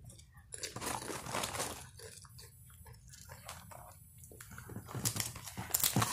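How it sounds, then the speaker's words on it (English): Chips and dippers crunched close to the mouth during chewing, giving several crisp, bursty crunches through the clip, loudest near the end. "close my mouth for the crunch."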